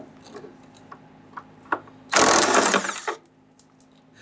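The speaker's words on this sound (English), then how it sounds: "we can now go ahead, loosen and remove that 3rd bolt or nut here." A ratchet loosening a fuel tank nut underneath a 1997-2006 Jeep Wrangler during fuel pump replacement, heard as a loud, dense burst of rapid clicking lasting about a second, framed by faint scattered ticks and clanks.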